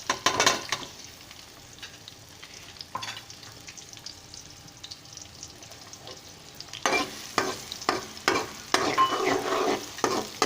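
Onions added to hot cooking oil while making a chicken and tinda curry, sizzling and frying steadily with stirring scrapes that grow busier and louder toward the end.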